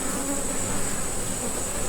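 A large honeybee colony buzzes intensely in a tight spot during removal with a bee vacuum, a dense, steady, close drone with no pauses and no voices.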